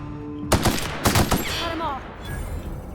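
Gunfire in The Outer Worlds: two sharp bursts of rapid shots around the half-second and one-second marks, loud and close, followed by a ringing, fading tail with faint game ambience.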